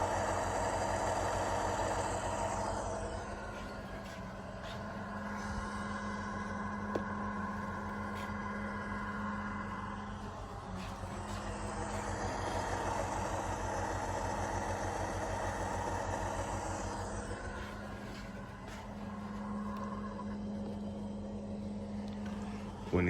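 A sound decoder in an HO-scale Athearn model of a GE CW44AH diesel locomotive plays a steady, droning engine sound at high RPM. Tonal layers rise and fall in slow sweeps over a constant low hum.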